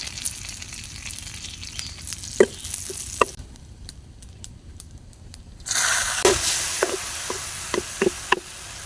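Dried red chillies with whole cumin and black cumin frying in a pan, soft sizzling with scattered taps and stirring scrapes, fading to near quiet midway before a louder sizzle bursts in, close and without talk.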